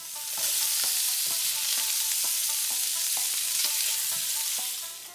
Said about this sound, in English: Then add the elm ear mushrooms. Let it cook for a minute